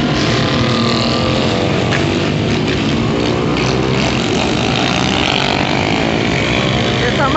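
Several motorcycles doing wheelies roar through a city neighbourhood street on a rainy day, a dense, continuous engine drone with wind buffeting the microphone and voices talking over it.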